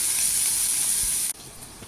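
Chopped onion sizzles in hot oil as a steady, close, loud hiss for over a second, then cuts off sharply into a quieter background. The dish being cooked is Chettinad chicken liver pepper gravy.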